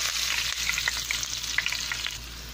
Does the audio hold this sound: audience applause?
no